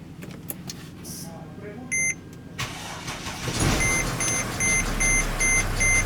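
A Mercedes GL320 engine with a faulty turbo actuator starts and idles with a low rumble while a high electronic chime beeps repeatedly in a steady pattern inside the vehicle.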